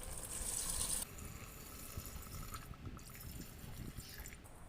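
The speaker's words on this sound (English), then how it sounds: "I'm going to add the pandan water" Pandan-infused water is poured into a pot holding three cups of rice. A soft, close splash of pouring liquid lasts about a second and then trails off into faint, quiet trickling.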